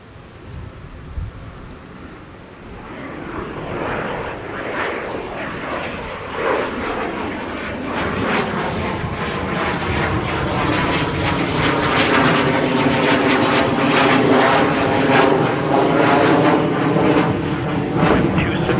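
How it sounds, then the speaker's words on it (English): A Beechcraft airplane takes off at a busy airport, its propeller engine droning loud and steady, building in strength as it climbs away, with no talk over it. "here goes our Beechcraft"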